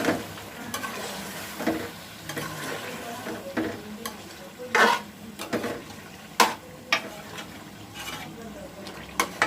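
Karahi chicken with yogurt is stirred in a pan, with a soft sizzle under repeated scraping and clinks of a spoon against the metal at an uneven pace.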